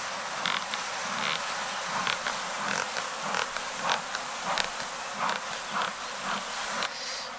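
Honey bees buzzing over brood frames with pollen loads in an open ten-frame hive with no stores, a close steady drone with handling clicks and bumps throughout.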